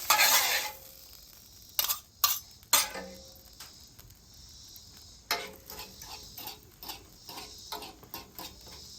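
A fork scrambles eggs on a seasoned griddle with vegetables, giving soft scraping and clicking taps in uneven bursts over a quiet, faint sizzle, fairly close.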